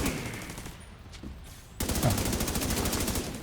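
Video game gunfire: a loud burst of rapid automatic shots cuts in abruptly after a quieter stretch of distant rumble, the rattling fire continuing steadily at close range with no talk.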